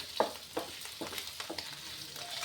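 Paneer frying in a pan gives a steady sizzle, with a few louder stirring scrapes spaced through the clip and no voices.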